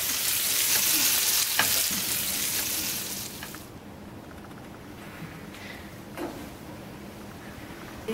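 Pecan-crusted fish fries in a pan with a bright, steady sizzle that runs loud for about three seconds, then settles into a quieter crackle with occasional stirring clinks.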